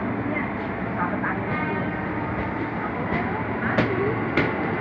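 A KRL commuter train pulls away from Depok Baru station with a steady rolling rumble and hum filling the platform, a few sharp clicks and squeals cutting through near the end.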